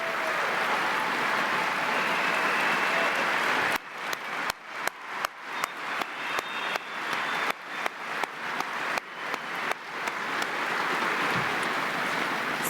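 Audience applause at a conference closing ceremony as agency staff stand, a dense sustained wash of clapping that ends with scattered final claps tapering off.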